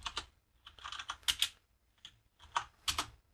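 Someone types on a computer keyboard in quick irregular bursts of close, crisp key clicks.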